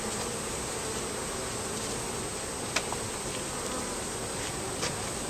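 Honeybees buzz steadily throughout a hive inspection over the brood box and queen excluder, a dense continuous hum with a few faint clicks and bumps, no voices.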